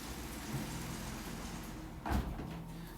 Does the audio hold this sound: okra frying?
no